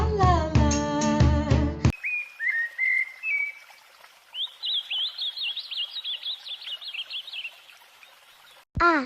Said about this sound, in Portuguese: Ah, já sei. Passarinho.